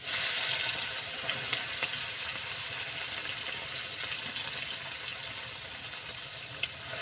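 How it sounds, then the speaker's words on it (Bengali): Marinated puti fish frying in hot oil, a continuous close sizzle and crackle running steadily throughout, with a few small clicks and one sharp pop near the end, and no voices. "এভাবে লাল করে দেবো, মাছগুলোকে ভেজে নেব"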